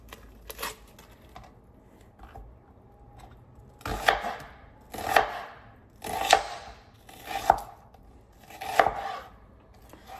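A knife chops through onion on a board in a home kitchen, with single strikes at first and then a steady series of crisp, evenly spaced cuts about once a second, close and clear with no talk.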